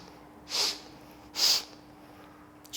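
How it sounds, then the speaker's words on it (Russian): Two sharp nasal sniffs spaced about a second apart during a breathing exercise with head turns to the right and left, close and clear over a quiet hum. "На каждый поворот мы выполняем шмыганье носом."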